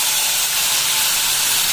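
Cumin, turmeric, tomato and green chilli hit hot oil and give a loud, steady, close hissing sizzle with no talk.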